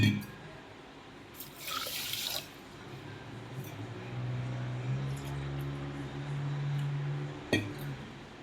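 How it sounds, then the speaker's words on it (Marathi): Water pours into a pot of sugar for syrup in a couple of splashy bursts, then a steady trickle with a faint clink. "त्याच वाटीने मी 2 वाटी पाणी घालणार आहे त्यामध्ये"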